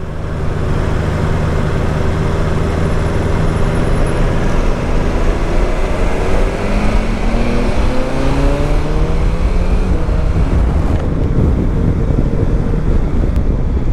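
A motorcycle with no fairing pulls away steadily, the engine climbing through rising revs under constant rushing wind noise, loud and close throughout.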